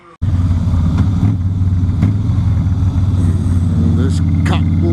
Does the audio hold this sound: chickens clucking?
no